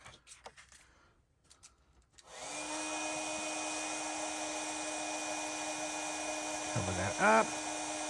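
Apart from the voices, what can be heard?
heat gun heat-setting white embossing powder on card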